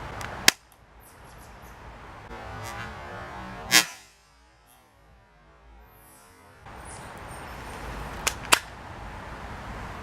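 A Taurus Millenium PT-111 airsoft pistol fires, giving several sharp, snappy shots spaced irregularly: one early, one midway, then a quick pair near the end, each followed by quiet room hiss.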